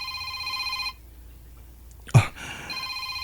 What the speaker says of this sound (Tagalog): Namay nitawag sa cellphone.